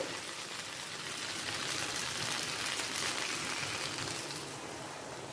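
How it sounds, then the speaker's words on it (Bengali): Mustard-paste water poured from above over mixed vegetables cooking in a pan, a steady broadband rushing pour with sizzle that holds evenly for several seconds, close and fairly loud, no talking. "সর্ষে জলটা আমি ওপর থেকে দিয়ে দেবো"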